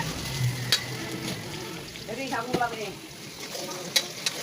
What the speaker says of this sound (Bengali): আমার রাজু সোনা ভেন্ডি বাজতেছে দেখেন।